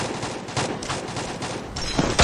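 Gunfire from a Free Fire battle-royale match: dense bursts of shots crackle continuously, with a louder, sharper volley near the end.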